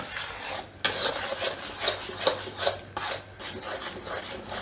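Gram flour roasted in ghee for mohanthal is stirred in a hot kadai taken off the heat, with repeated rasping scrapes of the spoon across the pan at a close, rhythmic pace.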